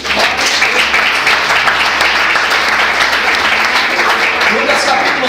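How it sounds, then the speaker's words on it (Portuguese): A church congregation applauds loudly and continuously, a thick, close wash of clapping that holds steady for several seconds with voices mixed in underneath. "Pode aplaudir o Senhor."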